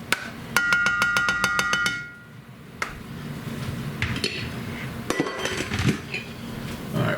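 Macaroni being stirred with butter in a metal pot, giving a fast run of bright metallic clinks and scrapes near the start, then a quieter pause before more clattering stirs return, close and without talk.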